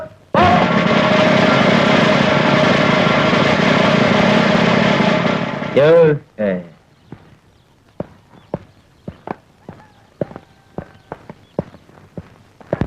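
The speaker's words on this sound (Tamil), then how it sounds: "மோட்டார்" A motor runs loudly and steadily for about six seconds, then cuts off abruptly, leaving scattered footsteps and light knocks in a quiet room.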